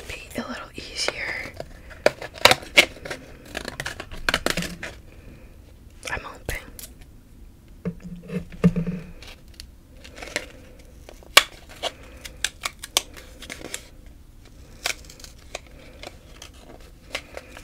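Beauty product packaging being cut open with scissors in a soft-spoken ASMR setting, a series of sharp close snips and crinkles of plastic and paper scattered between quiet whispered speech.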